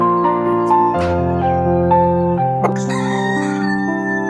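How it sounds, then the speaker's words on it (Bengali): A large cock rooster crows loudly and close by, one long, drawn-out call with a strong rising and falling tone, with no other sound around it. "কক মোরগ"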